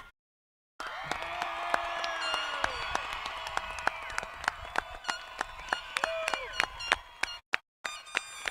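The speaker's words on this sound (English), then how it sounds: "please join me in a round of applause as we congratulate our summer" A crowd at a school graduation ceremony applauds the summer graduating class, sustained clapping with cheers and scattered whoops. It begins after a brief silence, then thins into sparse claps near the end.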